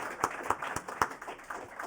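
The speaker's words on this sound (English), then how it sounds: "let's have a round of applause for our sponsors" Sparse, faint clapping from a conference audience applauding the event sponsors, a handful of separate claps spaced at a steady beat rather than a full ovation.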